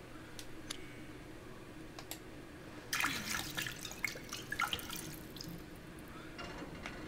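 Healing liquid poured in the video game Resident Evil 7: faint dripping and splashing, a brief wetter gush of liquid from about three seconds in, then scattered drips and clicks, with no talking.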